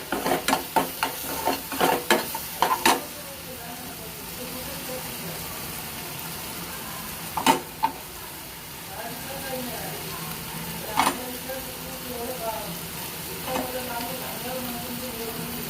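Fried vegetable cubes stirred into masala in a pan, with a steady low sizzle and repeated scraping, clattering strokes of a spoon, loudest early then sparser, under faint background talk.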